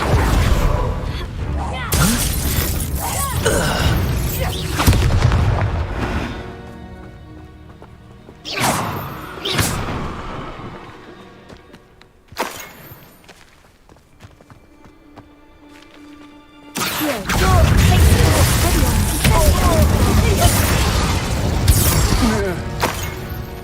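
Spell blasts and explosions from Hogwarts Legacy, including a fire spell and a blasting spell, land in loud crashing bursts. A quieter stretch mid-way gives way to a sustained, heavy barrage at the end.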